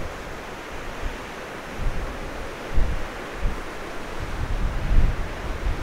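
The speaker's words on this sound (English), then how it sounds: "The wind is coming straight at me." Strong wind blowing over a lake in Nova Scotia, a loud steady roar of wind buffeting the microphone with gusty low rumbles rising and falling.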